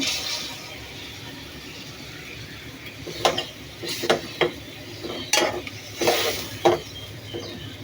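Large prawns fry in a pan, a soft steady sizzle underneath with several sharp clinks and scrapes of a utensil against the pan toward the end.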